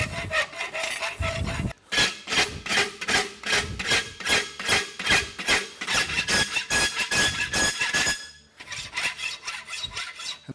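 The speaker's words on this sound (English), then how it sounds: "Take the half round file, I cut into the bottom of it," A half round file cuts into the underside of a hand-forged horseshoe blank during a timed horseshoeing competition, producing loud, rhythmic rasping strokes in a steady back-and-forth series, with a short pause near the end.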